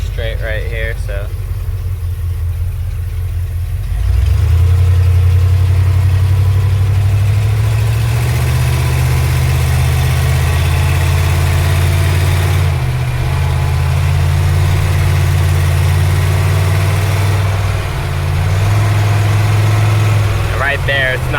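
A 1990 Ford E-150 Econoline van's 5.8L engine drones loudly, its E4OD transmission stuck in second gear, rising in pitch and holding high revs for long stretches without shifting up, with a short drop and climb near the end.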